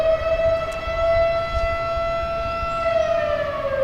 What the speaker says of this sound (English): That's the beautiful sound of the cruise ships coming down from the Delta to Sacramento.